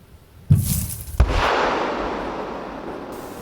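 A powerful blast of a Kh-32 missile warhead booms in the distance, followed by a second heavy thud and a long rumbling roar that slowly fades.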